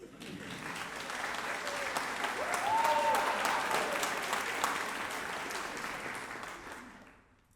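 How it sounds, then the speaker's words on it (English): A concert hall audience at a university concert band's winter concert applauds for Jesus and his birthday party, a broad sustained clapping that swells and fades out, with a brief vocal whoop in the middle. "Round of applause for Jesus and his birthday party."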